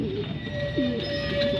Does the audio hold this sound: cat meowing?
no